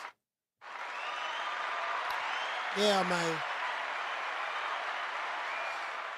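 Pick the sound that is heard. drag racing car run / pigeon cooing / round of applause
round of applause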